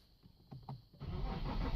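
An Infiniti G37 starting just after an oil change: a couple of brief starter cranks, then the engine catching into a louder, steady idle, heard close.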